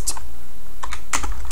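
Code is typed on a computer keyboard up close, a handful of crisp key clicks in two small bursts with a short gap between them.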